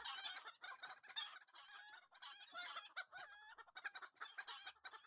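Chickens cluck and squawk in the LOTRO game world, a busy overlapping flock of loud, close calls that repeat throughout with brief crowing-like notes, with no talk over them.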